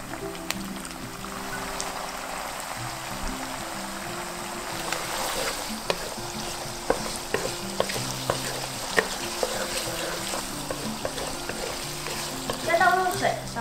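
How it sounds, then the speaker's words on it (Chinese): Chili bean paste, sweet bean sauce, soy sauce, white vinegar and pepper are stir-fried in a wok for vegetarian Taiwanese zhajiang sauce: a moderate sizzle with scraping spatula strokes and clinks, under steady background music. "拌炒至有酱香。"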